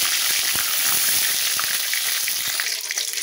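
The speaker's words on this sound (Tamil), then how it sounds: "இப்போ ஆயில் நல்லா ஹீட் ஆகிடுச்சு, கடுகு போட்டுக்கலாம்" Mustard seeds spluttering in hot oil for semiya kichadi, a dense close sizzle peppered with sharp crackling pops that thin out slightly toward the end.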